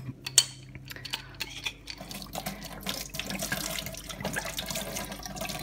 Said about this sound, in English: Tip out the water and vinegar,